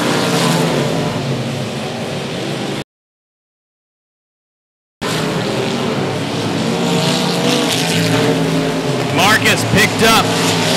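Race cars roar past at 105 Speedway on the final lap of a regular race program, a loud continuous engine din with a burst of passing engines near the end, a brief gap in the middle, and a commentator's voice over it.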